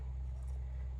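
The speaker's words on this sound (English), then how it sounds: "That noise you can hear is the mower has started up." Lawn mower running down a paddock in the distance, a steady low droning rumble that stays constant and fairly faint, with no other sounds over it.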